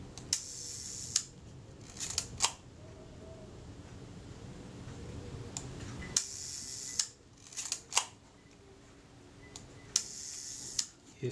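A Kodak Retina IIS 35mm film camera being serviced clicks its shutter several times, sharp mechanical snaps spaced a few seconds apart over quiet background hiss, close and isolated.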